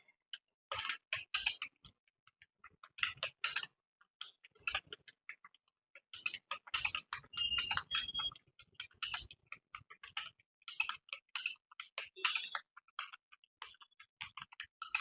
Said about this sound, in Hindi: इससे बोलते हैं भाई टक टक टाइपिंग।